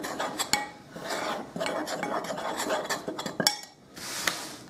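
Olive oil is mixed into pizza dough ingredients in a bowl, with a utensil scraping and clinking against the bowl in uneven strokes, fairly quiet and close.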